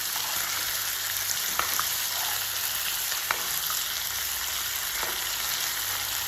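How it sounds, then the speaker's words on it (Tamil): Mutton chops fry in oil in a pan, giving a loud, continuous close-up sizzle and crackle with a few sharp pops and light stirring, and no voices. "மட்டன் நல்லா போட்டுட்டேன். நல்லா ஃப்ரை ஆகுது."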